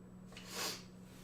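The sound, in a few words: sniffle from allergies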